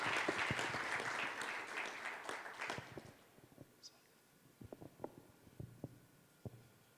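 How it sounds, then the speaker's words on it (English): Audience applause at a gender equality seal certification ceremony, loud sustained clapping for about three seconds that then fades into scattered claps and sharp taps, with talk around it. "A round of applause to them."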